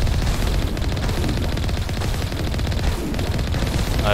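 Rapid, continuous machine-gun fire with heavy cannon blasts from combat in the video game Mass Effect Legendary Edition, loud and unbroken without pauses or voices.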